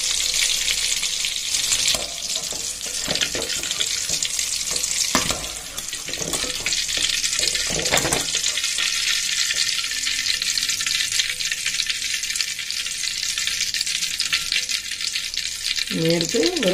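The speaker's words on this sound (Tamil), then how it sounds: "பாருங்க எண்ணெயிலேயே இந்த நெல்லிக்காய் அப்படியே நல்லா வெந்திருக்குன்னு" Indian gooseberries (amla) fry in oil on a low simmer, a steady hiss of sizzling with occasional stirring scrapes and clinks, and a brief voice near the end.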